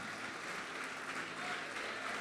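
A church congregation applauds, a steady, dense patter of many hands clapping at moderate volume throughout the short stretch.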